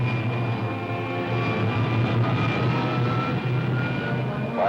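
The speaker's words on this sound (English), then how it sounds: "Fire pilot jet. Fire pilot jet." A rocket's pilot jet fires in an old sci-fi serial as a steady, loud roaring drone with a constant low hum and a thin high whine, continuing evenly throughout.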